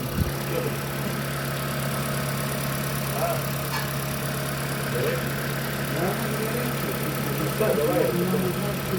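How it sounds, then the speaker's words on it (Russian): The 2ZR-FXE engine of a Toyota Prius Alpha idles steadily during an engine flush in a workshop, a constant low hum with a faint knock, while people talk quietly nearby. "Ну все, Prius мы запустили. Сейчас он у нас на промывочке стоит двигателя."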